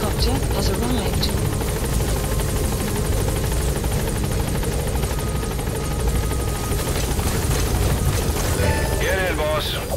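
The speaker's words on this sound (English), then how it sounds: "Support helicopter has arrived." Loud, steady rotor wash and turbine whine from a support helicopter hovering at a landing zone in Metal Gear Solid V, with short radio-style voice lines breaking in near the end.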